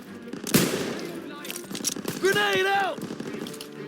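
Bursts of gunfire from the Call of Duty: WWII video game crack out amid game effects, with a sharp shot near the start and rapid firing, while a voice talks over the action.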